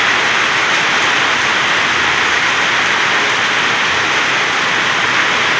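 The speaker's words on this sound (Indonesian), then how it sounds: "Ini hujan ya sekitar 5 menit teman-teman. Ya lumayan deras ya." Heavy rain pours down steadily outdoors, a loud, even hiss with no pauses and no voices over it.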